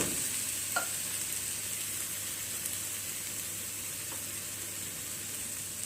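Onions and aromatics sautéing in a pan as the base for a squid gravy, giving a steady, even frying hiss with a faint utensil tap near the start and no voices.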